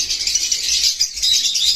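A caged bird offered for sale chirps in quick, high, rattling bursts, close and fairly loud, with no talking.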